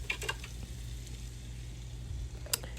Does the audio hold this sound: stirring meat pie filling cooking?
yes